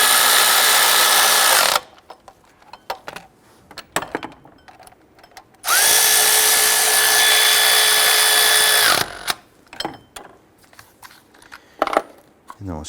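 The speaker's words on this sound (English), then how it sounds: "Let's go ahead and snug down our 15mm bolts." A power tool runs the 15mm bolts down on the intake manifold of a 1999-2004 Jeep Grand Cherokee 4.7L V8, with two loud, close whirring bursts of a few seconds each, separated by quieter shop clatter.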